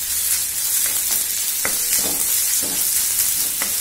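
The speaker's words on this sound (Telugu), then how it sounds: "అల్లం వెల్లుల్లి పేస్ట్ వేసుకొని రెండు కలుపుకొని ఫ్రై చేసుకోవాలి" Onions, curry leaves and ginger-garlic paste frying in oil for a beans tomato curry, a continuous loud sizzle with occasional spoon scrapes and taps against the pan, no voices.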